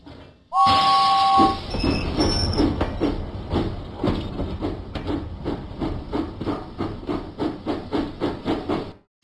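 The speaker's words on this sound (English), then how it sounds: "James went through the countryside" A Thomas & Friends engine in a video game runs along the tracks, opening with a sharp whistle and brake squeal, then a steady, loud clickety-clack of wheels over rail joints that repeats rhythmically throughout.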